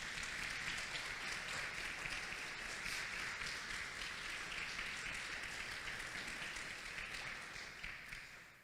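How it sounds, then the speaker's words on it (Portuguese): A church congregation applauds continuously during a sermon, dense steady clapping that fades slightly toward the end. "Todos digam amém e aplauda mais uma vez Jesus"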